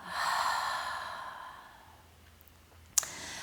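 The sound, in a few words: deep breathing, slow inhale and exhale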